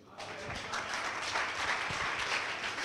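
A church congregation applauds during a pastor's sermon, a dense, steady wash of clapping that starts abruptly and holds at an even level throughout.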